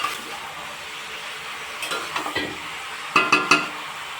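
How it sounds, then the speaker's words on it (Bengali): Mutton curry gets stirred in a pan on the stove, a soft sizzle under scattered scraping strokes and a few sharp clinks of a utensil against the pan near the end. "আর মাঝে মাঝে মাটনটা এরকম করে নেড়ে নেব।"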